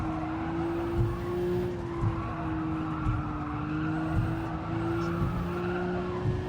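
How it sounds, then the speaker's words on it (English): Racing cars in a video game on a Tokyo street circuit keep up a sustained tyre squeal over a steady engine drone, with rhythmic bumps recurring about once a second. "Tyres are squealing."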